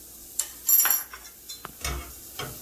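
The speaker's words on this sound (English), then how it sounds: "Place the pot on medium to high flame. Take the shallots, toss them in the pot." Shallots drop into a metal pot over a medium-high flame, a few separate clanks and clattering knocks against the pot with soft sizzling between them, close and fairly loud.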